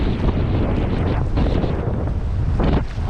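Strong 30 mph wind roars steadily across the microphone while kayaking on Lake Washington, a loud continuous buffeting rush with gusts and faint water sounds beneath.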